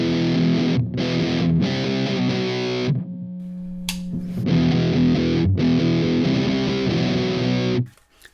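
Electric guitar on its single coil pickups runs through a fuzz pedal, playing loud, buzzy, distorted phrases with brief gaps and a short pause midway, then cutting off sharply at the end.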